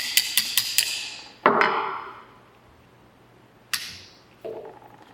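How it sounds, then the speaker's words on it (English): A hammer and punch drive out a pistol's mainspring housing retainer pin: four quick light taps, then three heavier ringing metallic strikes that each fade, close up with no talking. "The next step will be to drive out the mainspring housing retainer pin."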